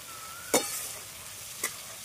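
Potato and pointed gourd curry stir-fries in a pan, a faint low sizzle punctuated by two sharp scrapes of a spatula, heard alone without speech.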